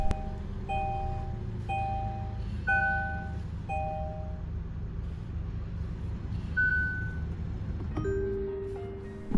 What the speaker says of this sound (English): And start the engine.